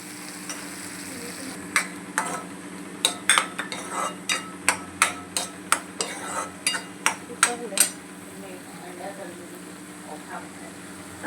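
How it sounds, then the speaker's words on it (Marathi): A spoon mixes ground paste into a methi matar malai gravy in a pan, giving about fifteen rhythmic scraping taps over a low, steady sizzle, close and clear. "आता चांगलं एकजीव करून घ्यायचं आहे."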